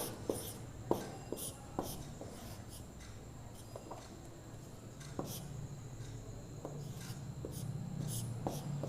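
Pen or marker strokes scratch across a board while a maths percentage problem is worked out, giving scattered short scrapes and taps at a soft, close level over a quiet room, with no talking.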